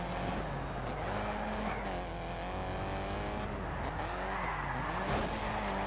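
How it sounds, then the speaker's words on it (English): Rally car in the racing game Dirt 2 sliding into a wall, its engine droning loud and steady with tire squeal and skidding scrape throughout, the engine pitch dipping and rising near the end. "Oh, we've hit the wall."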